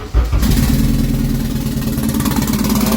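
A turbocharged K24-swapped car engine cranks and catches after a short starter whir, then settles into a loud, steady, close idle with a throbbing exhaust note.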